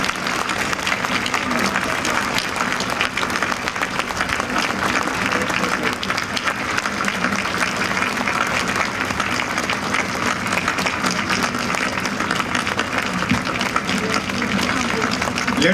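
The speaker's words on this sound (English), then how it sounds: "the audience's gratitude and jubilation is evidenced by their applause and cheers" A crowd at the dedication of the National Holodomor Monument applauds and cheers, a steady, thick wash of clapping with mingled voices that holds without pause.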